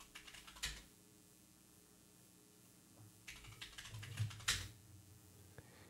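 Bursts of typing on a computer keyboard, quick clusters of key clicks at close range separated by quieter gaps, with no talk over them.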